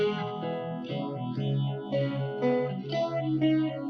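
A sustained chord of electric instrument tones with a swirling, pulsing pitch-wobble sweeping up and down from a rotary speaker emulation plugin, steady and close.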